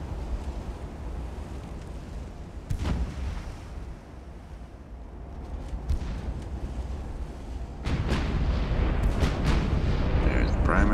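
Battleship primary guns fire in the Ultimate Admiral: Dreadnoughts naval game, heavy booming blasts with rumbling low roar, a sharp report early and a louder salvo later over constant wind-like noise.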